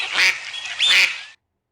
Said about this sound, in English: Yes, it is a duck.